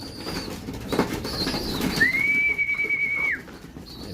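Racing pigeons in a loft make soft coos and rustling, then a clear sustained whistle-like tone runs for over a second amid low background noise.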